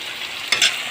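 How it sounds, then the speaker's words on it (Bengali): Okra being stirred as it fries in a pan, a steady close sizzle with a brief scrape of the spoon cutting through midway. "ভালো করে নাড়তে হবে"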